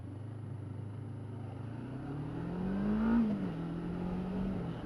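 Slow motorcycle being ridden on the road, a steady low engine drone heard from the rider's position that rises slightly in pitch as it revs and then settles, with continuous wind and road noise underneath.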